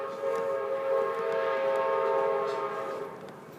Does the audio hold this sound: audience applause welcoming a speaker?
no